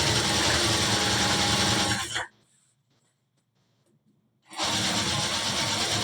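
A sewing machine stitches men's underwear, a loud, dense mechanical whir that runs for about two seconds, cuts out to near silence for two more, then starts again at full speed.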